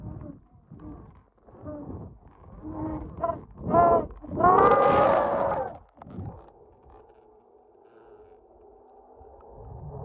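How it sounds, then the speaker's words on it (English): Eerie scream-like wails recorded on an iPhone held inside the Devil's Cauldron rock formation: several rough, rising cries build to a long, loud howl around the middle, then fade into a low, steady rumble. "He managed to record what sounds like screams coming from within."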